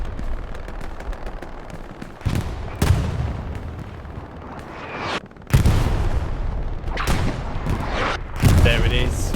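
Company of Heroes artillery and gunfire in a competitive match, with heavy booming impacts and rattling shots landing in several loud bursts under a commentator's continuous talk.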